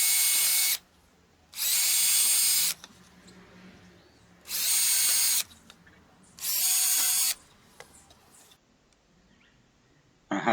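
A power drill bores pilot holes into reclaimed pallet wood for a garden planter, in four loud, close whirring bursts of about one to one and a half seconds each, separated by quiet pauses with light handling noises.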